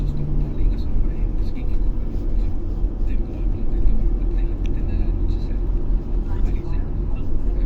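A car with very sensitive suspension rumbles and shakes steadily over a rough, potholed road, a loud continuous low drone with rattling jolts throughout.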